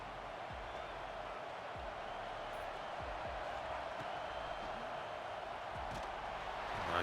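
Video game stadium crowd from College Football 26, a steady broad roar of noise held at even loudness throughout, with no distinct cheers or claps standing out.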